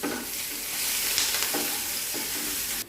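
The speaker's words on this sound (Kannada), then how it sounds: "ಎರಡೇ ಎರಡು ಹಸಿಮೆಣಸು ಅದನ್ನು ಹಾಕ್ತಾಯಿದ್ದೀನಿ ಇದೊಂದು ಸ್ವಲ್ಪ ಫ್ರೈ ಆಗಲಿ" Ginger, garlic and green chillies fry in hot oil with a steady close sizzle throughout, broken by a few brief stirring scrapes, then cutting off abruptly at the end; no talking.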